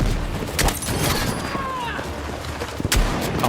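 Gunfire in Battlefield 6 rings out in sharp, close shots scattered across a rumbling battlefield, with a few loud cracks standing out. Faint whizzing sweeps pass overhead and a voice can be heard faintly.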